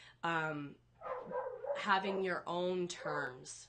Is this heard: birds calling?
no